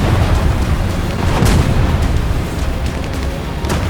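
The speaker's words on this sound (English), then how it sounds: "trying to run away from these massive explosions" Massive Sturmtiger rocket explosions in War Thunder roar continuously, a dense, loud wall of booming blasts and rumbling debris with a few sharper bursts standing out.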